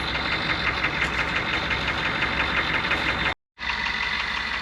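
An M1028 CUCV military Chevy dually with a 6.2 block converted to a 6.5 turbo diesel idles in snow, a steady close knocking diesel clatter that cuts out briefly before resuming.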